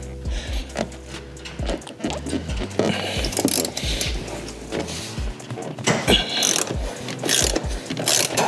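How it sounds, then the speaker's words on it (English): A hand ratchet fitted with an E12 socket loosens the seat mounting bolts in a Porsche, giving repeated bursts of close, sharp clicking with short pauses and clunks between strokes. "a E12 socket, which should be the size to take the mounting bolts off"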